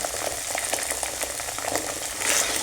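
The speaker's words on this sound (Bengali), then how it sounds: "এটা ভাজা ভাজা হয়ে গেলে, সবজি ভাজা হয়ে গেছে, এর মধ্যে আমি ডিমটা দিয়ে দিচ্ছি" Egg frying with chopped vegetables in a pan while pasta is cooked, giving a steady close-up sizzle and crackle that grows slightly louder near the end.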